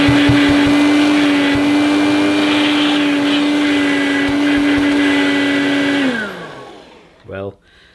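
A Dirt Devil Hardy handheld vacuum cleaner runs with a loud, steady motor whine close by for about six seconds, then winds down and stops, followed by a brief thump.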